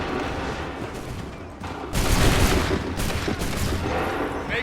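Musket volley gunfire from Assassin's Creed 3 Remastered: a dense, rolling fusillade of many muskets fired together, swelling loud about two seconds in and continuing in overlapping bursts over a busy battle background.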